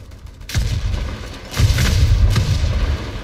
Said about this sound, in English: Bomb's right there, has a 2-second fuse delay. It just goes off.